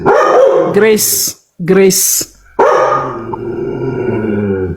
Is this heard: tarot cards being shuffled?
no